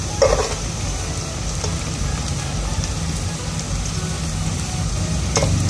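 Onions frying in oil in a pot for aloo keema, giving a steady close broadband sizzle with a few brief clinks from a utensil stirring, and no talking.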